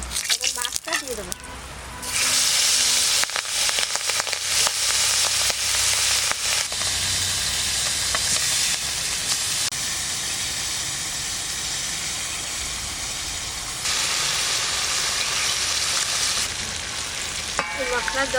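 Hilsa fish goes into hot oil tempered with dried red chillies and nigella seeds, bursting into a loud, dense sizzle that hisses and spatters continuously up close for the rest of the time.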